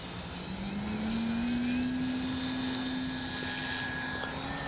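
A HobbyZone Carbon Cub S2 foam RC plane, about six years old, takes off from a grassy field, its electric motor giving a steady rising whine with a droning tone that swells and holds, loud and continuous, with no talking.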